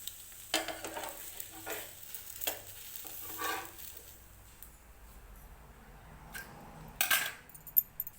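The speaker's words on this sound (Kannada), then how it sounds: "ಆವಿಯಾದ ನೀರು ಕೆಳಗೆ ಬಿದ್ದಾಗ ಚುರ್ರ ಅಂತ ಶಬ್ದ ಆಗುತ್ತೆ" A neravale leaf dosa cooks on a hot pan, giving bursts of sizzling hiss and several sharp scraping and clinking utensil sounds close by, separated by quieter moments.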